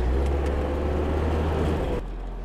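A Diora 6x6 'Caterpillar' vehicle gets throttle while pivoting on its middle axle: a loud, dense engine roar that holds steady, then drops abruptly to a quieter rumble for the last half second.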